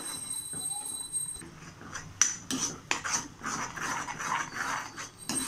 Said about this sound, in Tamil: நல்லா கிளறி விடுறேன்.